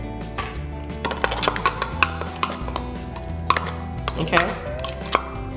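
A small knife clicks and taps repeatedly against a bowl while a meatloaf mixture with sauce and sautéed onions is stirred, producing irregular sharp knocks close by; someone speaks briefly.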